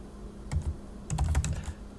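Keys on a computer keyboard clatter in two quick bursts as a sudo command and password are typed, soft close taps in rapid clusters over a faint low hum.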